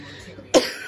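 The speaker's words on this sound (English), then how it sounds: "I got this ongoing cough, so you'll have to excuse me" A single short, sharp cough from a man with an ongoing cough breaks a quiet room near the end, close and fairly loud.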